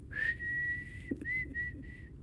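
A person whistles a single sustained note in real life during a gaming session, held briefly, dipping, then resuming in a few short phrases; close and clear over faint room noise.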